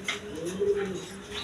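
Army pigeons kept for sale give soft, throaty coos in a short rolling sequence, close by, with faint background noise around them.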